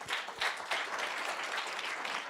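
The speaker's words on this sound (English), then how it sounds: "A big round of applause to Alex FM" A round of applause from a live audience at a transport industry panel, a steady wash of clapping that is moderately loud and fairly distant, continuing throughout without any voice over it.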